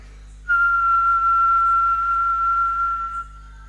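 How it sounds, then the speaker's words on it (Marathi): A single person whistles one steady, clear note held for about three seconds, loud and close, with no talking over it. "आता साधी शिट्टी मारायची."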